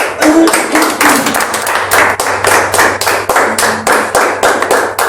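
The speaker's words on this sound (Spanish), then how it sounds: "Te dan un aplauso, gloria a Dios." A church congregation claps together in a loud, rhythmic, unison beat, each clap sharp and evenly spaced, with a low instrumental hum underneath.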